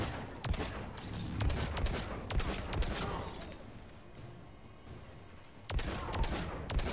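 Gunfire in Mass Effect 3 aimed at Shepard: rapid bursts of sharp shots crack out in clusters, with a short lull before another volley, fairly quiet overall.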